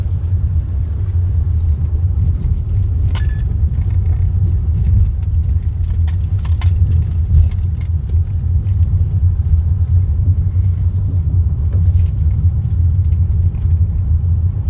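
A car drives along a mountain forest road, its engine a steady, loud low rumble with no breaks and faint ticks and rattles riding on top.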